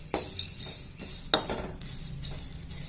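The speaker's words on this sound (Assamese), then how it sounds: "এয়া ৰঙালাও গুটি এনেদৰে 2 মিনিটমান ভাজি লম মিডিয়াম ফ্লেমত।" Pumpkin seeds stir-fried in a pan over a medium flame: a utensil scrapes and rattles against the pan, with two sharp metallic knocks and a soft sizzle underneath. No voices.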